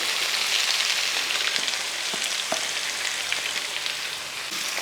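Finely chopped onions sautéing in a pan for a Kerala-style soya chunks curry, giving a dense, even, close sizzle with a few light stirring clicks and no voices.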